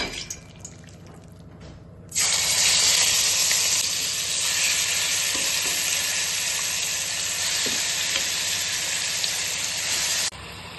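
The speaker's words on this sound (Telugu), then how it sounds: "ఇప్పుడు చికెన్ని ఫ్రై చేసుకుందాం." Marinated chicken hits hot oil in a pan and erupts into a loud, steady sizzle after a quieter start, the broad hiss holding evenly until it cuts off abruptly near the end.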